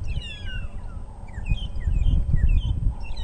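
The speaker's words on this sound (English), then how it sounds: "it's the long-tailed shrikes that you can hear calling, that sort of almost like a strange whistling sound." Repeated thin, whistling calls of long-tailed shrikes with rising and falling notes, heard at moderate distance over a low rumbling background during a sunrise safari drive.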